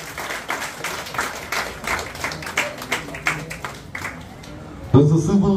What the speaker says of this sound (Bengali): একবার জোরে হাততালি হয়ে যাক ফর দিস টিম।